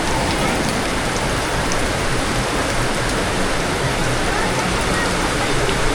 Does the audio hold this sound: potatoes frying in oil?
no